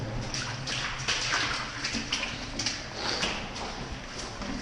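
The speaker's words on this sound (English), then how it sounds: "You do get quite a lot of water dripping onto you" Water drips and splashes in irregular taps inside a cave, with the drops echoing over a constant wet background wash.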